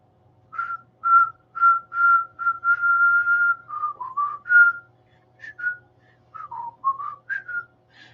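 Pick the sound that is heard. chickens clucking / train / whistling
whistling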